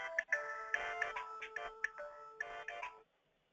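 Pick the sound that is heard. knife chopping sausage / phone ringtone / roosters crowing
phone ringtone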